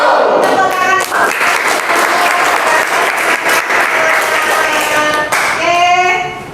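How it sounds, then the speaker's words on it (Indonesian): Students in a classroom burst into loud, dense applause that holds steady for several seconds before tapering into a few scattered claps near the end. "Tepuk tangan."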